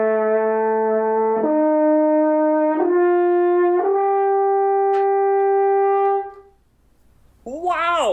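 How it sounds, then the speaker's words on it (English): A Swiss alphorn, the ten-foot wooden horn of the Alps, sounds long sustained mellow notes stepping between a few pitches for about six seconds, then falls silent before a voice speaks at the end. "It is what's called an Alp horn,"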